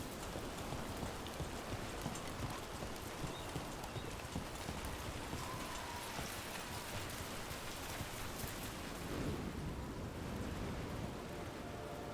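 Steady rain in the video game Dragon Age: The Veilguard, a dense, constant hiss of falling water and drops on surfaces, close and enveloping, with no talking over it.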